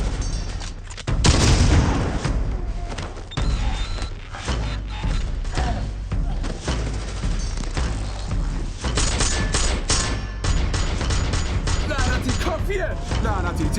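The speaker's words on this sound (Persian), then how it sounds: "لعنتی تیراندازی شده" Loud, dense gunfire and booming blasts from an action movie firefight keep coming in rapid, overlapping bursts throughout a long, chaotic stretch, with shouted voices mixed in.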